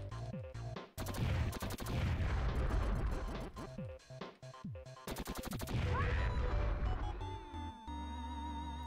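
Bomberman video game explosion effects: a rapid string of loud blasts and crashes with bursts of noise, followed by ringing electronic tones and a sustained synthetic hum near the end.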